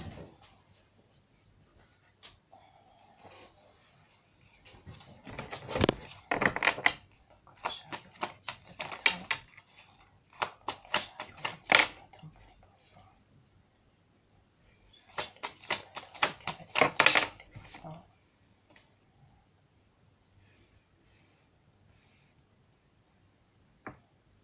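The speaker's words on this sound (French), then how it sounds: "j'ai fait tomber des cartes, je les ramasse" Playing cards dropped and gathered back up, in bursts of soft papery shuffling and tapping with quiet stretches between, close to the mic.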